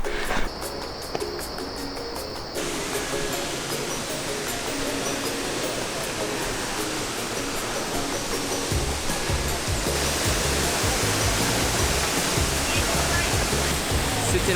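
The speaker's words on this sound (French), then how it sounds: "C'était la cascade Rio Celeste." A loud, steady roar of the Rio Celeste waterfall in Costa Rica fills the scene, dense rushing water close by, growing fuller partway through.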